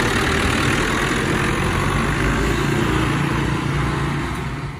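A 640 tractor engine idles at a dealer before a test drive, a steady, loud low rumble that holds without a break and fades slightly at the end.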